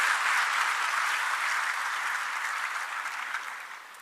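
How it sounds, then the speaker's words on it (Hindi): An indoor audience claps steadily in welcome for a UPSC civil services candidate, dense even applause close by that slowly tapers toward the end. "तालियों से स्वागत करेंगे"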